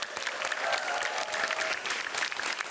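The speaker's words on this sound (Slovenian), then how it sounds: "En aplavz." Applause from a school crowd cheering the winning team at a timed cup-stacking contest, a dense steady burst of clapping throughout.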